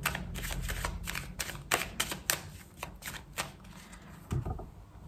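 Tarot cards are shuffled and cut by hand, a run of quick, crisp riffling flutters and soft slaps in a steady rhythm, close and fairly quiet with no voices.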